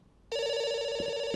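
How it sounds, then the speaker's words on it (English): A telephone in the video game Dr Langeskov, The Tiger, and The Terribly Cursed Emerald starts ringing after a short quiet moment, then gives a steady, loud, bright electronic ring that carries on, close by and alone. "it's ringing."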